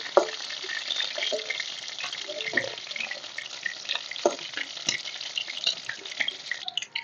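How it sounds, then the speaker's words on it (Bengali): Steady sizzling of onion paste frying in hot oil, with scattered scraping and clinking from stirring in the pan. "এই তেলের মধ্যে দিয়ে দিচ্ছি পেঁয়াজ বাটা"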